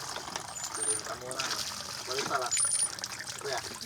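Drinking water trickles and pours steadily into a container indoors at a house, a continuous liquid stream throughout with voices talking over it.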